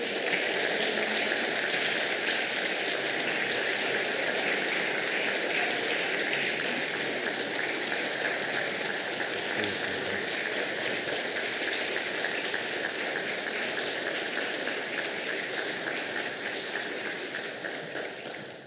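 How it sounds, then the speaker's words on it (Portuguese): Sustained applause from an audience honoring award recipients at a formal civic ceremony for a citizen advocacy prize, steady and dense throughout with no voices. "Senhoras e senhores, uma salva de palmas aos homenageados deste dia."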